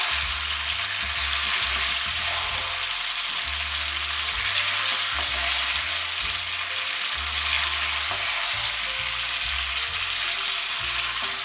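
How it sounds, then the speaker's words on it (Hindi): Spices with black pepper and garam masala frying in a pan for Azerbaijani-style parda pulao, a loud, close, continuous sizzle with low scraping stirring sounds throughout and no talk. "अच्छी तरह मैं और भुनाई करूँगी इसकी"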